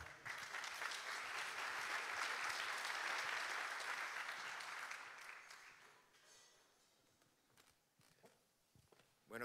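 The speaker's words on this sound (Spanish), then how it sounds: "Un aplauso para él, por favor." A conference audience applauds a speaker coming on stage, a full burst of clapping that thins and fades after about five seconds, leaving scattered claps and faint footsteps before a voice starts.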